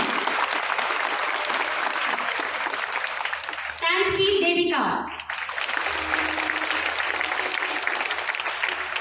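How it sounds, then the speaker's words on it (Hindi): Loud, sustained applause from a school audience at a girls' school annual day prize ceremony, broken by a brief pause where a woman announces a student's name, then resuming under continuing announcements. "तालियां जोरदार होनी चाहिए।"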